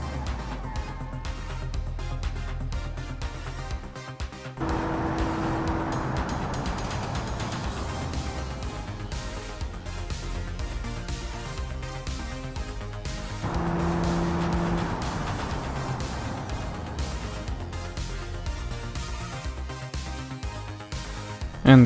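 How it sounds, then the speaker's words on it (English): A car on racing tires brakes hard from 150 km/h, with a sustained mechanical roar and a whirring, ratcheting engine tone that shifts midway, heard alone with no talking. "Let's repeat the test, but now we will brake from 150"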